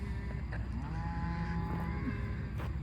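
Cattle being unloaded from a trailer at a ranch low against a steady rumbling background of engine and wind noise, with a few faint moo-like tones rising over the din.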